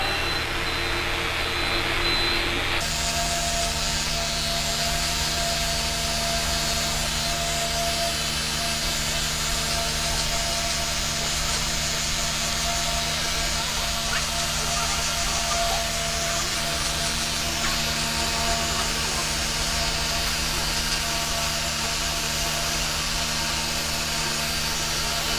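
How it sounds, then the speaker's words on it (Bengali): An electric hair trimmer fitted with a 1 mm guard buzzes steadily and loudly while cutting the sides of a boy's hair, a continuous close motor drone that barely changes throughout. "এবারে এই ছোট স্টিমারে 1 mm ক্লিপ লাগিয়ে সাইডগুলোকে ছোট করে নেব।"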